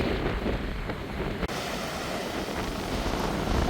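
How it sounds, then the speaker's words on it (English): Strong wind buffets the microphone while surf roars steadily underneath, a continuous loud wash of wind and breaking waves with no voices. "It's a bit windy. Quite a surf going on there."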